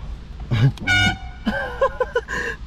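A 1992 Ferrari 348 TS car horn honks in several short blasts, loud and close, with brief pauses between them.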